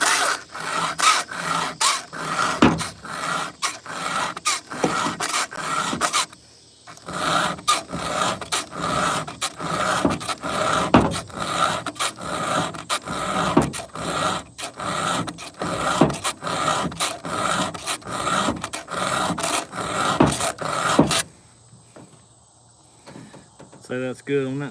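A hand file rasps across saw teeth in quick, steady strokes while a saw is sharpened, the loud broadband scraping running almost without a break for about twenty seconds before it cuts off to a quiet, faint hum.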